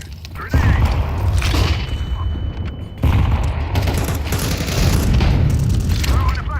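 A grenade goes off in a video game as a heavy boom, followed by a second loud blast a few seconds later. Dense gunfire and battle noise keep going underneath, and a voice talks over it.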